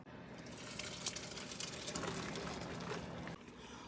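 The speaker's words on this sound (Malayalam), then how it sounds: "ഈ വെന്ത കപ്പ ഇനി ഒരു സ്ട്രെയിനറിലേക്ക് ഒഴിക്കാൻ പോവുകയാണ്" Boiled tapioca and its hot water pour into a strainer, a steady rushing splash close by that holds for a few seconds and then tails off.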